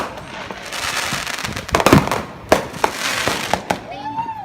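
Dense crackling July 4 fireworks with repeated loud pops and bursts, continuous and fairly close, while people talk and cheer in the background.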